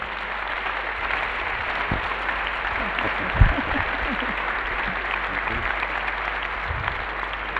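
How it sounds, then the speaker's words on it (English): Audience applause at a conference interview event in Marrakech, a sustained even wash of clapping from a large crowd with a few louder individual claps, no speech over it. "A big round of applause for all of them"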